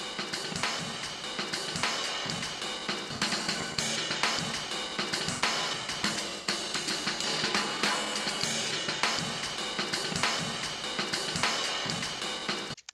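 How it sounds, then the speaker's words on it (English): Busy chopped drum loop with crisp snares and cymbals hitting in a quick, slightly stuttering pattern, steady and fairly quiet, no voices. "I have this sample, which I chopped up a jazz drum sample"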